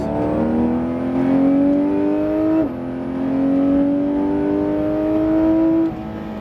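A Porsche GT3 RS howls loudly under hard acceleration on the La Ferté-Gaucher race circuit, its engine note climbing steadily in pitch, dropping briefly at a gear shift, then rising again before easing off, heard from close by.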